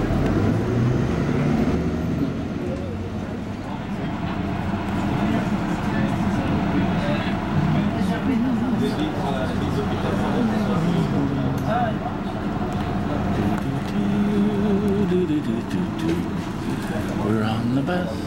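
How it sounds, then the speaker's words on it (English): A city bus riding through Paris, a steady engine drone and road rumble from inside the vehicle, with people talking throughout. "I'm on the bus"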